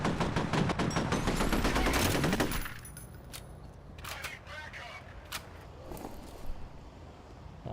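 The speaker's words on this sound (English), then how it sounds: "I might be better off switching to the dual submachine guns." Dual submachine guns firing in F.E.A.R., a dense, loud rapid burst for about two and a half seconds, then scattered sharper shots and impacts with faint background game noise.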